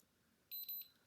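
An electronic beep from a remote-controlled ball valve actuator for a pool, sounding as two short, high-pitched tones in quick succession, close and clear against near silence.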